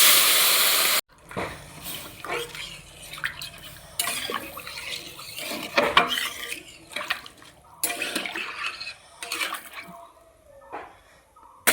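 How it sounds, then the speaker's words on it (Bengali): Hot water poured into a cooking pot for making bora, splashing in several bursts with gaps between pours, close and fairly loud, with no voices. "গরম জল দিয়ে দিই।"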